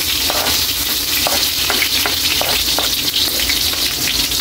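Onion and garlic fry in hot oil in a home kitchen, a loud, steady sizzle with repeated scraping stirs, continuous and close with no talking.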